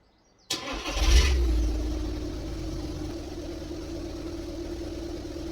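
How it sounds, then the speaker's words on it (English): A car engine, a Volkswagen Group (Seat, Volkswagen, Skoda or Audi) vehicle with a reverse light fault, cranks briefly with the key and catches, then settles into a steady low idle that runs on to the end. No voices. "so I'm turning the key round."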